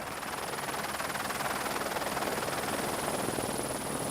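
A Rega rescue helicopter's rotor beats steadily and loudly while hovering over steep terrain, a constant rapid thudding chop with a high engine whine, close and unbroken.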